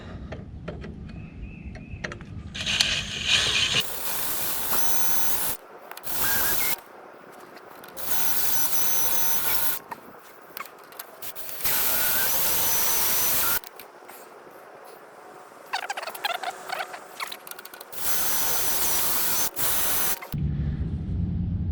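Drilling into a Kubota BX23 tractor driveshaft part with a power drill, a harsh whining grind in several bursts of a few seconds each, separated by short pauses, loud and close with no talking.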